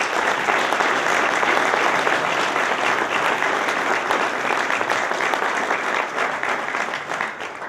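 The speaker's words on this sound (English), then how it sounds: "Let's give a round of applause for a series well done" An awards ceremony audience applauds in a dense, steady burst of clapping that tapers slightly at the end.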